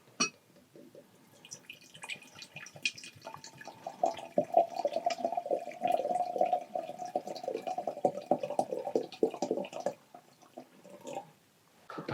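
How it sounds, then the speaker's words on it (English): Film stabilizer pours into a developing tank during home color film processing, a bubbling liquid gurgle that builds to a steady stream in the middle, then stops, with small taps and drips around it. "Now I can pour in my stabilizer."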